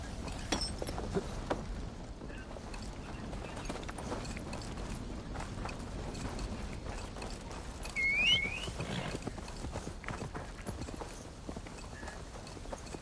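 Horse hooves clip-clopping in a video game, a quiet steady rhythmic patter of hoofbeats running on with faint game sounds in the background.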